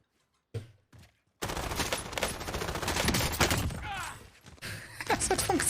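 Sustained rapid gunfire from a video game, a dense loud burst of automatic shots after a brief quiet start, with a few scattered shots near the end.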